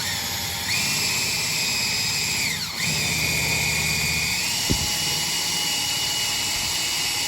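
A power drill whirs loudly while tightening an Ideal Ez-Set garage door spring on a 7x9 door, pausing briefly, then whining on and ending with a sharp clack.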